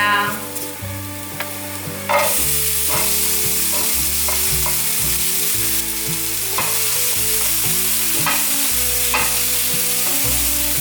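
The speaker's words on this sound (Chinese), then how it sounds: "把红甜椒和黄甜椒稍微炒软，大略翻炒一下来调味" Red and yellow bell peppers stir-fry in a pan for a vegan potato and enoki dish, with a loud continuous sizzle, intermittent stirring knocks and steady background music throughout.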